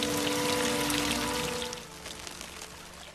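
Water pours and splashes steadily like a leak gushing into a bunker and flooding its underground level, loud at first, then easing to a quieter trickle with scattered drips.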